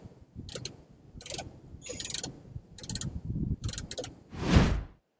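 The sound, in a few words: ratchet with 10mm deep socket tightening screws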